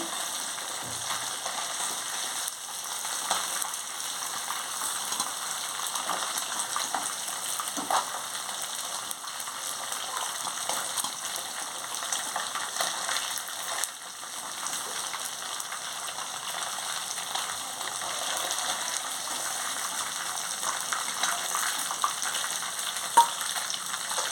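Chanduva pomfret fish frying lightly in a pan: a steady, even crackle and hiss of hot oil that runs the whole time without break, with a few small pops and faint stirring touches and no voices.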